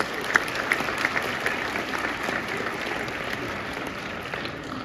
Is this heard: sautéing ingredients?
no